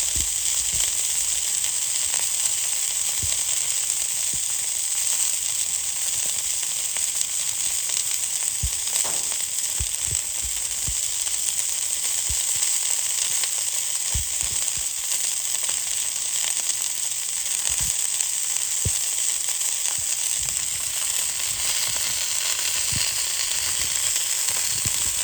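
Sausages frying on a Callow four-burner plancha, a continuous dense sizzle and crackle with scattered pops and spits, steady and close throughout without speech.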